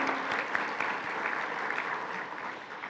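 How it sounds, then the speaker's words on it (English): Audience at a tech and business expo applauding a commerce authority partner, a dense, steady wash of clapping from a large room, moderately loud and sustained without pause. "Big round of applause for our great partner, the Arizona Commerce Authority."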